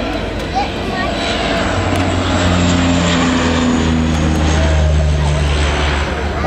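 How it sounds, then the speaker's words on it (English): De Havilland Dash 8 turboprop flying a low, slow handling display at an airshow at Omaka, a loud steady propeller and engine drone throughout with a rising hum, while a commentator talks over it. "Quite a big aircraft to be bringing around in such a small area."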